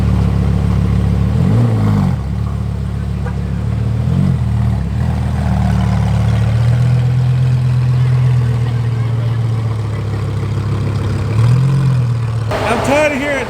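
An Italian supercar engine revs in short bursts, then holds a steady drone before one more rising rev, loud and close, with talk mixed in.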